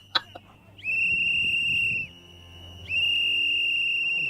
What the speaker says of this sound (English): Blow the whistle a little bit more.